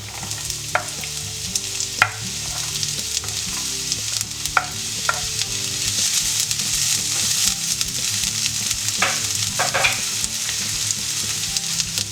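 Chopped onion sizzles steadily in hot oil with garlic in a pan for Spanish patatas revolconas, with scattered sharp clicks and taps of a utensil stirring, and no voices.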